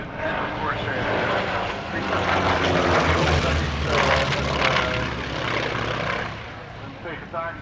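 WW2 Trojan and Corsair propeller aircraft trailing display smoke pass by at a Liberation Day air show, a loud sustained engine drone that swells and fades; a commentator speaks over it.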